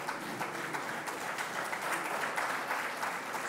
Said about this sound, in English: so a lot of applause should be there